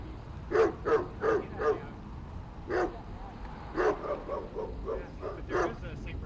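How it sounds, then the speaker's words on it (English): A St. Bernard dog barks in a backyard, a series of separate woofs with short pauses between them at moderate distance, while people talk nearby. "there is a St. Bernard in the backyard"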